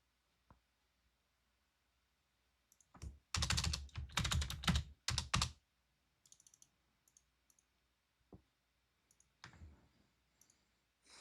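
Computer keyboard typing and mouse clicking at a desk during a live stream, a dense burst of rapid keystrokes followed by scattered isolated clicks, close and fairly quiet with no talking.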